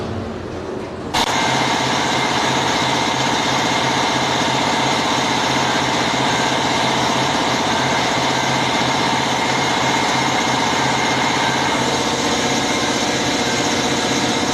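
GPX Demon 250 motorcycle engine running after a service and a cleaned fuel pump, starting up about a second in and then holding a steady, close, even idle hum to the end.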